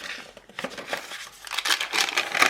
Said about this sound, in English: The crinkle is incredible.